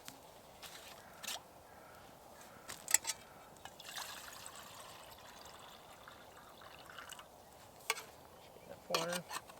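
At a rainy campsite water is poured for cooking egg noodles, giving soft trickling and splashing along with scattered clinks of metal pots and utensils, close but quiet, over faint steady rain-like background noise.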